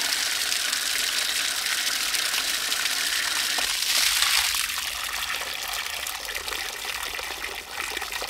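Water siphons steadily out of a ram pump delivery pipe draining a storage tank, a continuous loud gushing, splashing pour that holds steady throughout with a slight surge midway.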